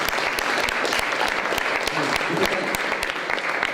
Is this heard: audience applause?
yes